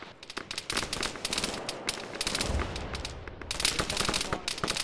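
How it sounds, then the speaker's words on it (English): A military video game battle: close rapid bursts of gunfire crackle in quick succession over a deep booming explosion, loud and dense throughout with no talk. "Large explosion, northwest."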